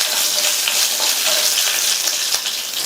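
Cut green chillies sauté in a hot pan, giving a steady, close, full hiss of frying that holds evenly throughout with no talk.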